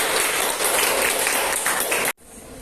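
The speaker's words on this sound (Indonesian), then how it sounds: "Tepuk tangan untuk semua kelompok." A classroom of students applauds the student groups, a sustained burst of dense clapping that cuts off abruptly near the end.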